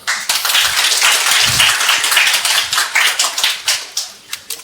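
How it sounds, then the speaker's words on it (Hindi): Hand clapping: a brisk, dense patter of claps, loud and close, that thins into scattered single claps toward the end. "चलो भाई ताली तो बजा दो यार।"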